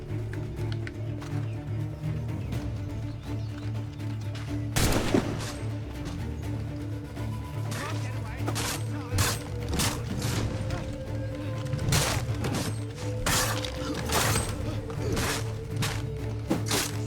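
Gunshots in Assassin's Creed 3 ring out in a village, a string of sharp cracks scattered through the stretch over a steady ambient hum, with a heavier blast near the middle.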